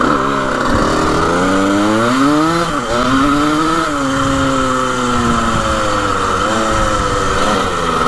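Engine of a 1980 vintage racing dirt bike running: a loud, buzzy, rattly two-wheeler engine note heard up close, revving up and down continuously with shifting pitch.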